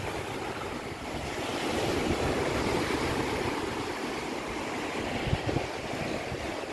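Sea waves wash onto a stony shore in a continuous rushing surge, broad and fairly loud, mixed with wind buffeting, and no one speaks.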